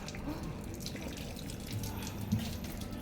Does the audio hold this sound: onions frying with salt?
no